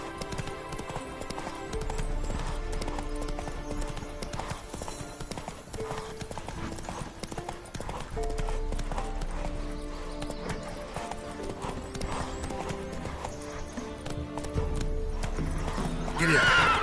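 Roach, the horse in The Witcher 3, gallops with a rapid, steady clip-clop of hooves, an occasional whinny and a game music bed, constant and close.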